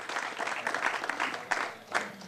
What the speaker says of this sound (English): He gets a bigger round of applause this time.